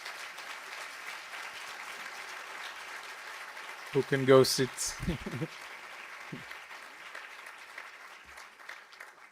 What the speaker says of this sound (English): Please, a round of applause for our researchers.